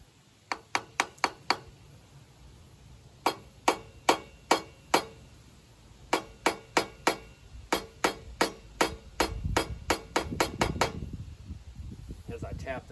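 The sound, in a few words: tapping on a Bolens 1050 tractor carburetor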